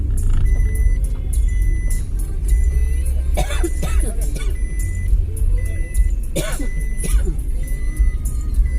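A car is driven out of a parking spot near the Ganga hot water springs at Rajapur, its engine rumbling steadily up close with a few brief beeps and background voices.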